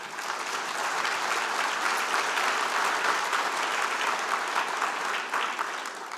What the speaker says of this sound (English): So can we please give them a round of applause?